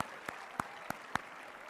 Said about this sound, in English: let everybody give you a big round of applause for all your amazing help